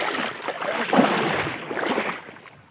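Water is pushed and splashed in a small canal to drive fish, making steady nearby sloshing and rippling with a stronger surge in the middle, with no voices.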